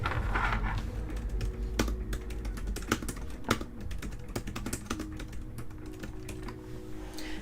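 Fast typing on a laptop keyboard, a steady stream of close clicky keystrokes with a few louder taps standing out, heard alone without any talking.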